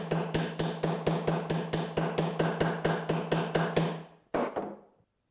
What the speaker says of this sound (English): I just need to hit those in with a hammer